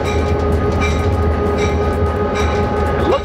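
A train travels fast along the rails, heard from inside the car as a loud, steady rumble with faint clicking and a brief squeal near the end. No one speaks.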